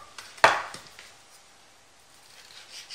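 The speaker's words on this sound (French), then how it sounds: "je vais couper des lanières de viande" A knife slicing beef fillet into strips for shawarma makes one sharp knock on the board, followed by faint rustling and near silence.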